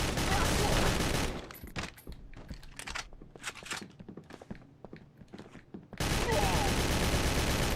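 Gunfire in GTA 3 played on PS3: loud dense bursts of shots open the clip, then scattered sharp pops and thuds follow, and a heavy barrage returns near the end.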